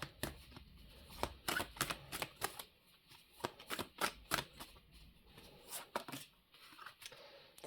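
Tarot cards are shuffled and drawn by hand, giving a faint, close run of papery riffles, slaps and flicks that come in irregular bursts, with no talking.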